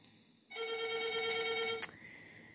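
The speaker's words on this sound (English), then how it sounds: "I do apologize with the phone. It's often ringing off the hook." A telephone rings once, a steady electronic ring heard faintly in a quiet room, ending with a soft click.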